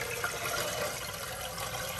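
Water poured into a blender jar while making watermelon agua fresca, a steady, close splashing rush that stays constant and alone.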